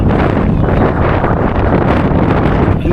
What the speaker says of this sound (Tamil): ஆளே இழுக்கிற அளவுக்கு காற்று அடிக்குதுங்க